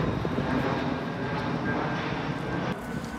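An airplane passing overhead near Heathrow Airport, a loud, sustained engine roar that holds steady and eases slightly toward the end, heard outdoors among trees without talking.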